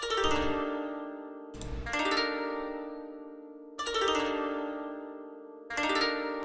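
A sampled Ethno World koto plays a gliss phrase pattern in FL Studio, rapid plucked string sweeps that bloom into ringing, decaying tones, repeated four times in an uneven rhythm, close and clear with no other sound.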